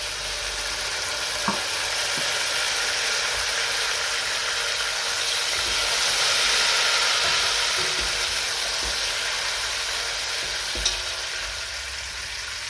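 Vodka hitting a hot pan of crispy caramelized sausage, browned onion and cooked garlic, giving a steady loud sizzle and frying hiss throughout with a few faint clinks, no voices.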